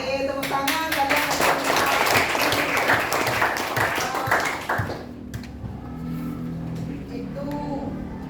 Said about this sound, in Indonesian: Oke, tepuk tangan kalian.